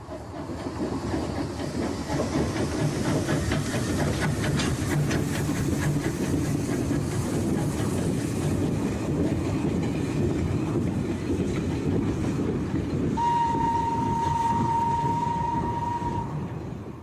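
A steam saddle tank locomotive on the Middleton Railway in Leeds chugs and rattles continuously along the track, with a steady hiss and clatter, and a sustained whistle near the end.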